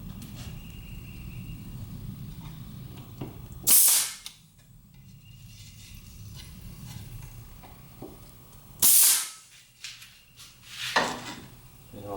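A pneumatic pin nailer fires pin tacks into wood on a CNC machine project, with two sharp, loud pops several seconds apart over quiet room tone and a softer knock near the end.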